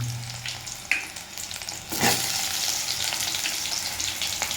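Whole cumin seeds and onion frying in very hot oil, a loud continuous close sizzle that swells suddenly midway as more goes in, with light stirring, no voices.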